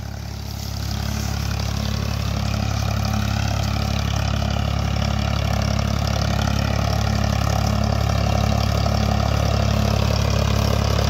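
A tractor engine runs steadily in a sugarcane field, a loud, close, continuous idling rumble with a deep low throb that holds throughout.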